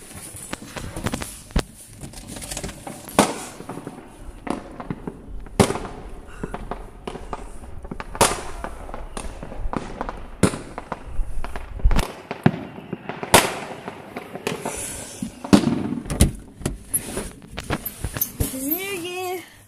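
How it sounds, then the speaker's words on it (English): Fortnite New Year fireworks pop and crackle in a continuous, dense barrage of loud bursts and sharp cracks with a distant rumble, and a person speaks briefly over them. "I'm just going to watch the fireworks."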